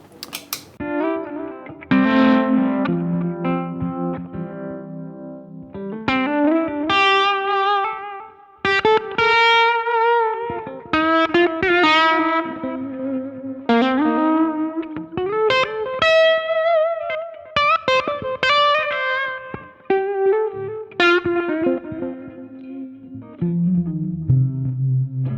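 An electric guitar, a Gibson ES-335, played alone with clear picked notes and chords in a steady melodic run, close and loud, with a slight effects or overdrive coloring.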